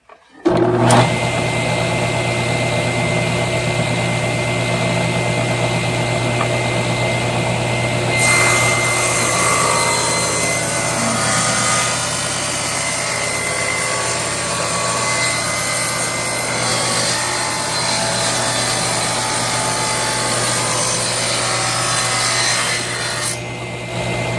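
A table saw with feather boards in place cuts a wood workpiece, producing a loud, steady whirring drone that holds for over twenty seconds before winding down.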